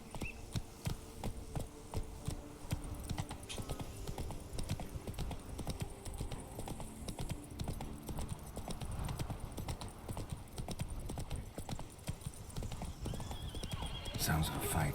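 A horse galloping with rapid clip-clopping hooves and a neigh in the video game The Witcher 3, loud and continuous, with speech over it.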